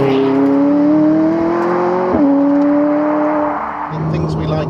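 A McLaren 675LT at full throttle, engine note climbing steadily, dipping at a gear change, then rising again, loud and close as it pulls away hard.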